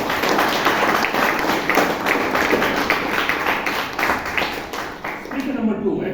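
Steady, dense applause from a Toastmasters meeting audience carries on for several seconds before tapering at the end, with faint voices in the room.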